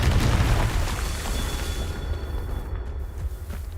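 Confringo blasting spell from Hogwarts Legacy, a loud explosive boom that hits at once and rolls off into a long rumbling, crackling decay with no talk.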